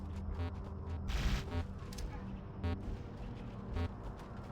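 Sniper rifle shots in the Halo video game, several sharp reports spaced a second or so apart over a busy wash of other gunfire and explosions, with one heavier burst near the start.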